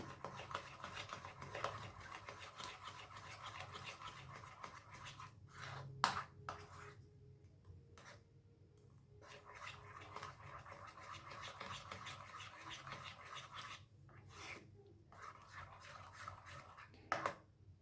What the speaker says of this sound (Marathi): आणि हे छान परत फेटून घ्यायचे आपल्याला अशा पद्धतीने